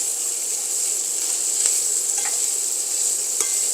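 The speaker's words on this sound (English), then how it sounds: "Don't forget to scrape off all the brown bits at the bottom of the skillet too." Cheese sauce stirred and scraped in a skillet, a steady close sizzle with faint intermittent scrapes and clicks of a utensil against the pan, no talking.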